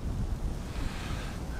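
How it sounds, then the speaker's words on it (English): Strong wind buffets the microphone outdoors during a Michigan deer hunt, a steady loud roaring rush with no pauses. "All right, so it's pretty windy."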